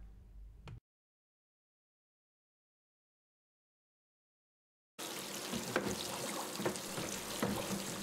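Hot water runs into a small parts-cleaning bath mixed with Simple Green Max degreaser, used to soak motorcycle parts from a YZ250 restoration. After a silent gap, a steady rushing, splashing pour comes in at moderate volume.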